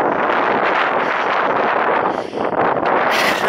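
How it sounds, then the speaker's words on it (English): Strong, steady wind roars and buffets the microphone on a Quantock Hills hike in August, with a brief lull near the end before gusting back in. "it's going to be very, very windy"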